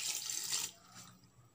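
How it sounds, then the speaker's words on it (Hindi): A glass of water poured into a pressure cooker, a short close splashing gush lasting under a second that quickly tapers into faint trickling. "और 1 गिलास पानी।"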